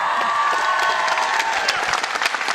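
Crowd at a boys' Division II volleyball championship match between St. Louis and University Lab School, a steady wash of applause and cheering in a gym with scattered claps standing out.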